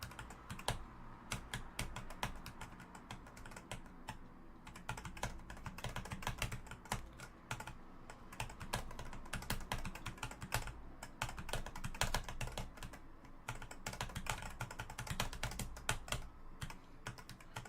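Clicky computer keyboard typed on rapidly, a dense stream of sharp close key clicks in uneven bursts, faint and alone without voices.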